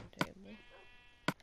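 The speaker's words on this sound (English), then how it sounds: "Oh, no, I just witnessed a wolf eat a sheep." A sheep in Minecraft bleats as a wolf attacks it, one short bleat between two sharp hits, faint and close.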